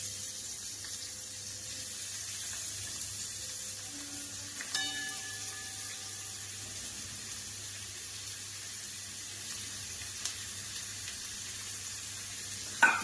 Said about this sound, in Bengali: পেঁয়াজটা এবার লাল করে ভেজে নিই।